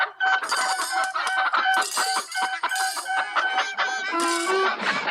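A chicken clucks and a rooster crows in a busy, continuous run of fowl calls, loud and close, with overlapping cackles and a crow standing out near the end.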